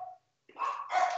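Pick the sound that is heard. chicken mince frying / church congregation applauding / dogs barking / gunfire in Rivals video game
dogs barking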